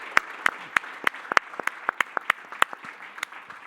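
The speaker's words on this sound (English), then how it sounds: "I will turn on the applauding machine for the panel" Sparse, distinct hand claps applauding a conference panel, a small number of individual claps spaced irregularly, crisp and close rather than a full crowd.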